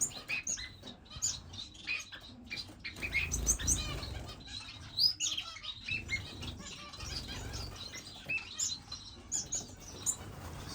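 Owl finches and other finches in an indoor bird room flutter and flap their wings while scattered high chirps and tweets overlap. The activity rises and falls throughout, soft to moderate in level, with no talking.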